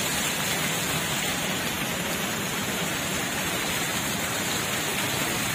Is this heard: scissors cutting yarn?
no